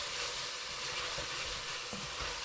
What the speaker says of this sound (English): So now you see it's frying